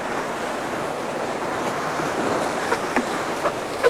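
A canoe runs through whitewater on an Ontario river, with a steady, loud rush of churning waves and wind noise and a few soft splashes and knocks near the end.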